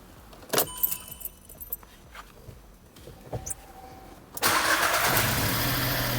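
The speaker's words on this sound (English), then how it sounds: "So let us now start the car." A Skoda Rapid 1.0 TSI cranks after keys rattle and small clicks, then catches into a steady, close idle that runs loudly to the end, just after an oil change at 75,000 km.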